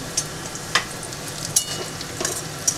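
Cashews and raisins frying in oil on a medium flame, a steady soft sizzle with a few sharp pops and crackles scattered through, close and fairly quiet, with no talking.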